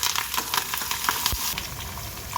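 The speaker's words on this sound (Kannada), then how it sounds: "ಇದಕ್ಕೆ ಹಸಿಮೆಣಸಿನ್ಕಾಯಿ," Green chillies and curry leaves go into hot tempering oil with a close, continuous sizzle and crackle, and a spoon taps the pan once or twice.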